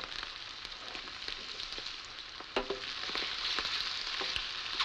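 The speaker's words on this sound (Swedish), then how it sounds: "Svampen får steka en bra stund på svag värme." Chanterelle mushrooms fry in butter in a pan over low heat, giving a soft, steady sizzle with scattered small pops and crackles. The sound stays fairly quiet and close throughout, with no voices.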